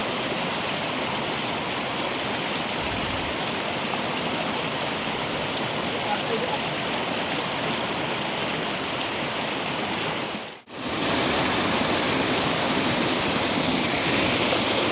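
Steady roaring rush of a waterfall in the Konkan region, loud and continuous, broken by a brief dropout near the end before the roar resumes.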